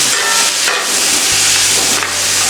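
Onions frying in a pan for an Orissa-style fish curry give a loud, steady sizzle and hiss that runs unbroken, with a low hum joining partway through.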